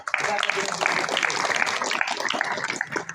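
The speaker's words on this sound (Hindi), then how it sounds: "ऐसे मसीहा के लिए बस जोरदार ताली बजाओ" Applause from a crowd at an Indian political rally in Bhadohi, a steady wash of clapping under a loud amplified voice throughout.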